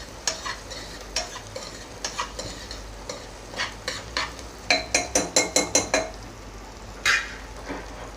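Onions stirred in a cooking pot for black mutton curry, sizzling softly as a spoon scrapes and clinks against the metal in uneven strokes, with a quick burst of rhythmic knocks near the end.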